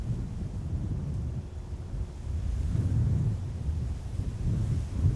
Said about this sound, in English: Wind is picking up by the feel of it. Bit gusty every now and then.